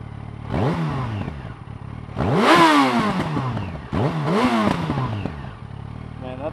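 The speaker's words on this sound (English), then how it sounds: "let's turn it on and let you listen to the exhaust" A stock Yamaha FZ1 motorcycle exhaust revs up sharply three times, each burst rising then falling back toward idle, loud and close with a crackling edge.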